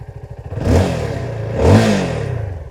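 A Keeway K300R motorcycle revs twice to around 6,000-7,000 RPM, rising from a lumpy idle into two loud, swelling exhaust blips about a second apart, each falling back toward idle.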